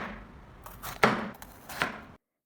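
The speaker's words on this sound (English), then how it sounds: "Cut off both ends and slice it into small pieces about 2 to 3 centimeters long." A knife slices through bitter melon on a cutting board, giving two or three crisp, close chopping strokes with short pauses between them.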